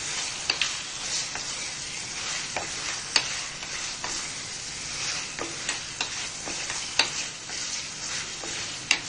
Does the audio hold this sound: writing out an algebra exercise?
no